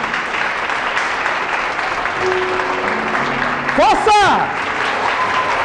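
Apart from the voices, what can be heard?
congregation applauding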